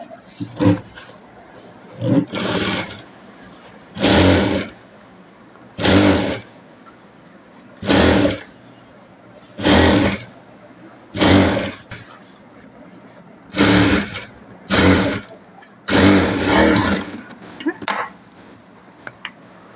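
A sewing machine stitches piping onto a round blouse neckline in short, close whirring bursts, about ten runs each lasting roughly a second, separated by brief pauses with faint background noise.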